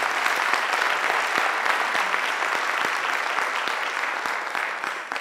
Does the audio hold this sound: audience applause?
yes